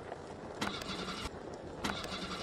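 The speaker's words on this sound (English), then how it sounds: "I don't know how the engine keeps turning on and off." Bus engine in the driving simulator game Bus World repeatedly cutting out and restarting, with starter bursts at regular intervals over a steady mid-range engine rumble, moderately loud and close.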